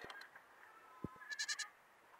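Goats on a dry smallholding with thinning pasture bleat in a few short, faint calls, the last a wavering, quavering bleat near the end, with little else around.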